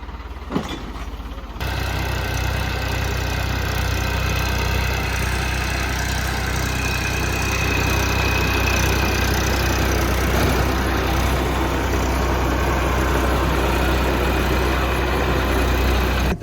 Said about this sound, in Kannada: ಕನ್ನದಪ್ಪರ ಟ್ರ್ಯಾಕ್ಟರ್ ಬರ್ತನು